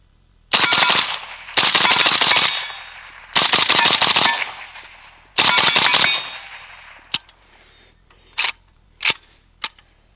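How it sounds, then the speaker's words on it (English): A Century Arms Romanian AES10B2 RPK rifle fires outdoors in four loud, rapid strings of shots, then a few single sharp reports spaced apart as the echoes fade. "Just get some quicker shooting on camera."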